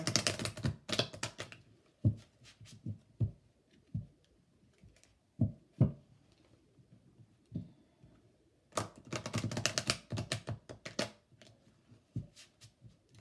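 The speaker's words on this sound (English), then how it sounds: "Just doing 3 short shuffles here." Several short bursts of crisp tarot card shuffling, riffles with quieter taps and shuffles in between, close up, no talking.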